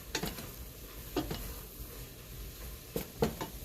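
A spoon stirs low-sodium chili seasoning into a pot of chili, giving soft scraping strokes and a few sharper clinks against the pot over a quiet simmer, with no talking.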